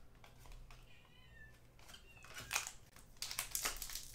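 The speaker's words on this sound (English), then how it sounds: "And if you hear any meowing in the background, it's my cat wanting attention." A domestic cat meows faintly in the background of a quiet indoor room, a few short drawn-out calls, followed by soft crinkling and rustling sounds.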